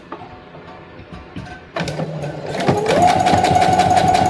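A sewing machine stitches down the side of a fabric lanyard, starting with a thump and settling into a fast, steady mechanical whir of needle strokes, close and loud, with no one speaking.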